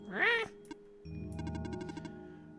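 A human voice imitates a confused cat with one short, wavering meow that rises and falls. It is followed by a pause and then a bed of steady electronic game-music tones.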